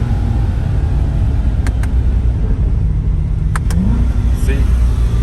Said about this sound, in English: See, it automatically downshifts and revs up.